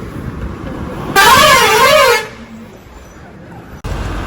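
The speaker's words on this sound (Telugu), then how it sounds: "మళ్ళీ ట్రాఫిక్ జామ్." Loud, sustained horn blast with a wavering pitch lasting about a second, honked from a bus stuck in a mountain-road traffic jam on the way to Devprayag, over a steady road rumble that cuts out near the end.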